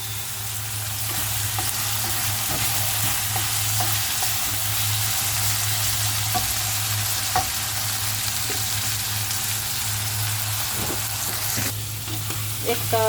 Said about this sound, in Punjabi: ਆਪਣੇ ਤੜਕਾ ਭੁੱਜ ਰਿਹਾ